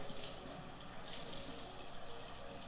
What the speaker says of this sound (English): I'm just gonna rinse it out enough so that there's no more color running.